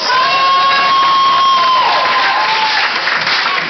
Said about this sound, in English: let's give Harrison a round of applause.